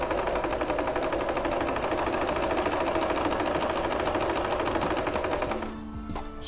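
A domestic sewing machine runs fast and close, stitching a zigzag finish on fabric as a replacement for overlock, with a dense, rapid, even clatter that slows and stops near the end, and no talking.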